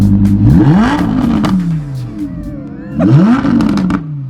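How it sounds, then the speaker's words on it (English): A Yamaha R1M sport motorcycle with a superlight chain and sprockets, revved up close in a garage: two loud rising-and-falling blips of the engine, the second after a brief idle, with no talking. "I figured we'd do some revs for you guys"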